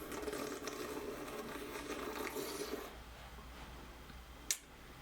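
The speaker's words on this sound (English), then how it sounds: "I like to aerate it in my mouth a little bit" Close, quiet slurping and gurgling of wine drawn through the mouth to aerate it, with airy hiss, easing off partway, then a brief sharp click.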